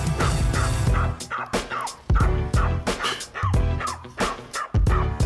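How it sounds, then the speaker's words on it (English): A small dog yips and barks in quick, sharp bursts, close and loud, with short pauses between the barks and a faint whimpering tone. "Little dogs will do that."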